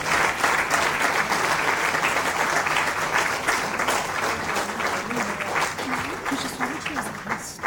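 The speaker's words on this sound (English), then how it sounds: "clapping should go on, please." Sustained audience applause at a sanitation awards ceremony, a steady dense wash of clapping filling the hall and holding for several seconds, with faint voices underneath.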